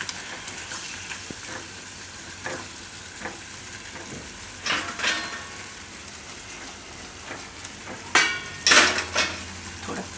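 Yogurt being stirred into bottle gourd curry in a pan at home, with a soft simmering sizzle and scattered spoon scrapes and clinks against the pan, a few sharper metallic knocks near the end.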